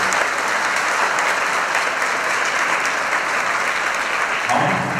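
Schoolchildren and guests at a school film festival event applaud together, loud continuous clapping that holds steady for about five seconds before a voice starts in at the very end.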